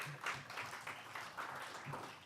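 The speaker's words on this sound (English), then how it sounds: "Let's give a big round of applause again for Greg." An audience at a skeptics' conference applauds a speaker after his talk. The clapping is soft and steady, comes from some distance, and lasts only a couple of seconds.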